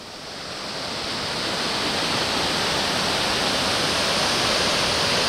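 Angel Falls and the river in Big South Fork National River send up a steady, loud broadband rush of falling and flowing water that swells slightly at first and then holds constant, heard close with no voices.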